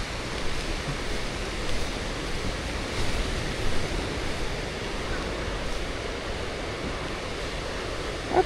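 Sea waves wash steadily onto a beach in Taiwan, a continuous broadband surf roar with gentle swells and some wind buffeting the microphone, close and fairly loud.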